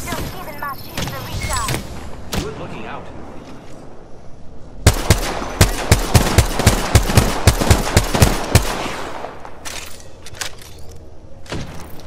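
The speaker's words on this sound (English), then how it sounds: "There's another squad shooting at us." Rapid gunfire bursts from the Apex Legends video game, a dense volley of sharp, loud cracks fired in quick rhythm, with scattered single shots before and after, up close.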